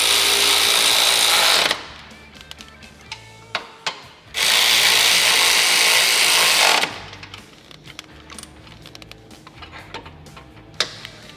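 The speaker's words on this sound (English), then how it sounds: "then we're going to fully tighten the hardware" A power tool tightens bolts on the mount hardware of a SuperATV Ready-Fit winch being installed on a Honda Pioneer 1000 frame, with two loud sustained runs separated by clicks and clanks of handling.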